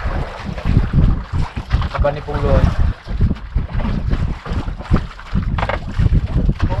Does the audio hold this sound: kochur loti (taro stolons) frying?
no